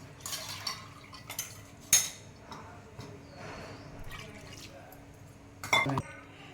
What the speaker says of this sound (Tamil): ஊற்றி நல்லா கலந்து விட்டுட்டு இப்போ இதுக்கு தேவையான அளவு தண்ணி ஊற்றிக்கிங்க